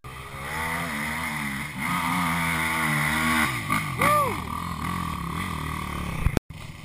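Sport ATVs, a 250R, a Banshee and a YFZ, hill climbing in Florida woods: a close engine drones, then revs hard with rising and falling pitch before cutting out abruptly near the end.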